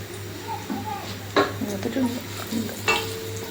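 Cumin seeds fry in a pan with a soft, steady sizzle, broken by a few louder scraping stirs. A voice murmurs faintly underneath.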